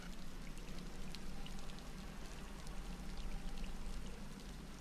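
Flowing river in the video game Scanner Sombre, a dense, steady rush of water like pouring rain that holds at an even level throughout, alone with no voices.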